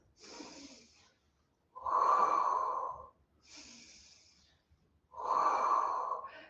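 Breathing during an intermediate Pilates workout: four slow breaths alternating soft inhales with louder, longer, forceful exhales, close and alone without talk.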